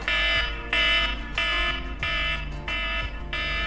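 An iPhone X alarm rings out, a loud repeating electronic tone pulsing about every 0.6 seconds with a bright, buzzy edge, close and alone.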